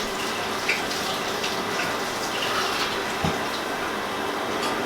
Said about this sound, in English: And then walk and wash my hands,